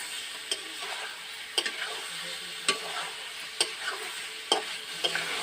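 Oil frying gently in a pan while chicken milk korma is cooked, with a soft continuous sizzle under repeated sharp clicks and taps of a utensil against the pan, fairly quiet and close.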